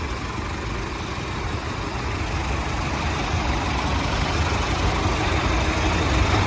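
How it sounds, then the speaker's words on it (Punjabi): A heavy turbocharged tractor engine idles steadily, a constant low rumble with a faint turbo whine on top, close and unchanging throughout. "ਟਰਬੋ ਲੱਗੀ ਹੋਵੇ ਟਰਬੋ ਆ ਦੇਖੋ ਬਾਈ ਟਰਬੋ ਦੀ ਸਾਊਂਡ"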